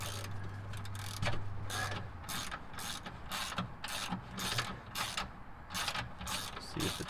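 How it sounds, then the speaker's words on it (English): Socket wrench ratcheting in quick, rhythmic bursts of clicks while seating a control arm bolt on a 1999-2004 Honda Odyssey, close and clear with a steady low hum underneath. "I'm going to get my socket wrench so I can get this thing"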